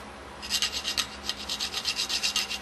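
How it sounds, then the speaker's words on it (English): Hand file rasping burrs off the flats of an aluminum nut during a Meyer E 47 rebuild, about a dozen quick, close, rhythmic scraping strokes with nothing else audible. "I'm going to just touch the flats on this a little bit with the file."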